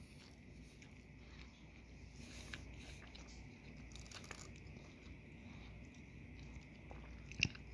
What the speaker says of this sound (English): Another bite here.